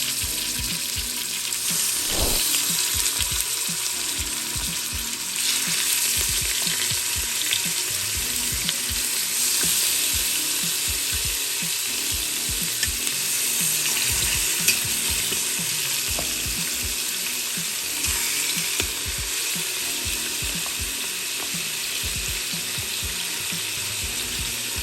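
Oxtail pieces searing in a hot pan for rasta pasta, a steady loud sizzle and crackle that runs unbroken throughout with small pops.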